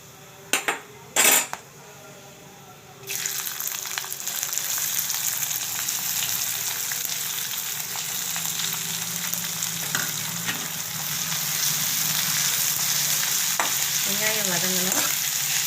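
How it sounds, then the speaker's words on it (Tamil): Onions hit hot oil with whole spices for beetroot chops, bursting into a loud, steady close sizzle after a few sharp pan knocks, then frying on continuously with faint stirring scrapes. "இது பொரிஞ்சதும் வெங்காயம் போட்டுக்கணும்."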